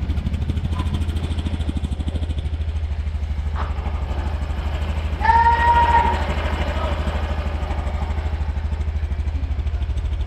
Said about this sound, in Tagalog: Maganda rin ang tunog ng kanyang makina. Ganyan na ganyan ang perfect na tunog para sa isang scooter na healthy.